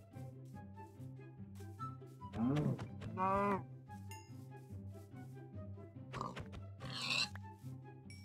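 Minecraft farm animals, pigs grunting and oinking alongside cows mooing, a few distinct calls over a steady background music loop, moderately quiet.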